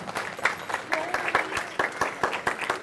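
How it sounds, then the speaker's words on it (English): Youth football camp participants give their coaches a round of applause, with sharp, uneven claps from a modest group that stay fairly close and moderately loud throughout. "Could we have a round of applause for your coaches, please?"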